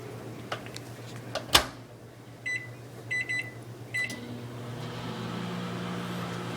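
A microwave oven runs with a bar of soap inside, a low steady hum broken by several short high beeps and a sharp click, then the drone continues and grows slightly louder.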